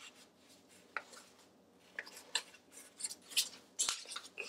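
Sticky pizza dough is peeled off a work surface in short soft tearing and scraping bursts, a few sharper clicks and snaps scattered among them, close up and with no voices.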